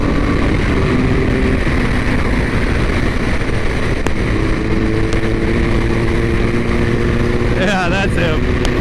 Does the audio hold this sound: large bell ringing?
no